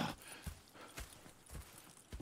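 Horse hooves clip-clopping in the video game Red Dead Redemption 2, a quiet, steady rhythm of several clear hoofbeats at a walking pace, fairly close and heard without talk.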